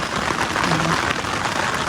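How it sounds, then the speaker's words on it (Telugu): Rain beginning to fall outdoors during an evening of cooking pot biryani in heavy-rain weather, a steady diffuse patter filling the background without pause. "ఇప్పుడు మనం చూసుకున్నట్టయితే వర్షం అయితే స్టార్ట్ అయిపోయింది"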